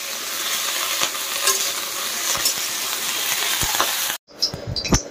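Paneer frying in hot oil, a steady loud sizzle with occasional stirring scrapes and clinks, briefly cutting out near the end before resuming with a few sharp utensil clinks.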